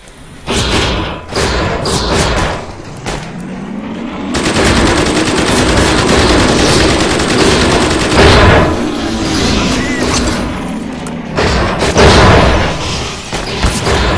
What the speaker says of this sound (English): Oh, someone is shooting at me.